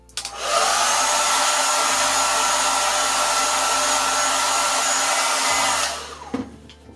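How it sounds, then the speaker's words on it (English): A hairdryer roars steadily at close range for several seconds, a loud continuous blowing hiss, then switches off. "I'm just going to dry it quickly with my hairdryer"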